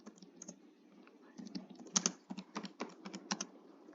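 Search keywords are typed on a computer keyboard in quick, uneven bursts of light key clicks, close and fairly quiet, with short pauses between strokes and no talking.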